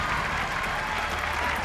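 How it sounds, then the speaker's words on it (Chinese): Sustained applause from a studio audience at a televised singing competition final, a steady, dense patter of clapping filling the whole moment without pause. "我们把掌声给一号"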